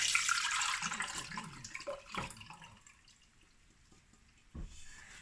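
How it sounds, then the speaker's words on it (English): Homemade quercetin liquid is poured through a fine sieve into a large jug, a close, soft splashing stream that tapers into trickles and drips, with a brief clatter near the end. "I've got a large jug here with a fine sieve, and we're gonna sieve these out."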